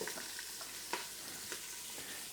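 Yellow onion sizzles steadily in a hot pan after pork has been browned in it. Faint stirring scrapes break through now and then, and no one speaks.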